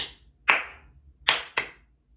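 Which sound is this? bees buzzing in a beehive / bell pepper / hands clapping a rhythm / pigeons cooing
hands clapping a rhythm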